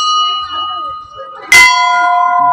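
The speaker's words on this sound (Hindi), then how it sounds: "यहाँ पे घंटियाँ" Bells ringing at Ghandiyal Devta temple during a fair, one bright clang followed by a long sustained metallic ring, close and loud, with a faint earlier ring fading out before it.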